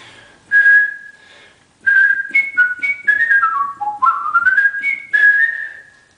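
A person whistles a short melodic tune in a lower register, clear pure tones sliding between notes in several phrases, close and alone with no talk.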